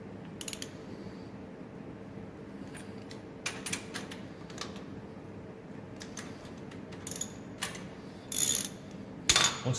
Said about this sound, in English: At that point, both of the bolts can then be fully tightened.